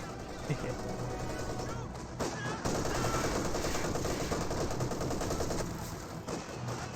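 Machine gun fire in the Company of Heroes 2 video game: dense, continuous rattling bursts under a voice, with battle noise throughout.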